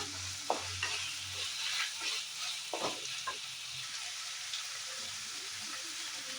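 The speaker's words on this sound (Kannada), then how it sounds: "ಚೆನ್ನಾಗಿ ಫ್ರೈ ಆಗ್ಬೇಕದು." Frying in a pan while cooking avalakki chitranna (flattened rice dish), a steady soft sizzle with a few brief scraping stirs of a spatula, moderately close, no talking.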